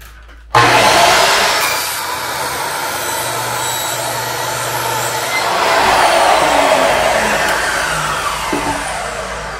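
Metal shower niche trim resting on a wooden support block is cut with a loud, steady power-tool whine that holds for several seconds and swells partway through, with no talking.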